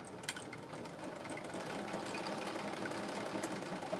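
A sewing machine stitches fabric for a McCall's M8208 garment in a steady, unbroken whir that runs for several seconds at a moderate level, with no voices over it.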